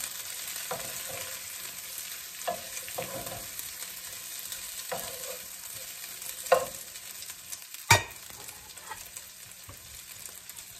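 Sausages and bell peppers frying in a pan, with a steady soft sizzle throughout, occasional stirring clatters and one sharp utensil knock near the end.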